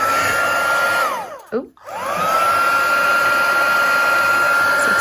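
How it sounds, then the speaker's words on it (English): A handheld heat tool blows hot air for heat embossing on a craft project, a loud steady whine close by that dips briefly as it is moved, then resumes; a short exclamation is heard. "So excuse the noise as we just heat emboss these"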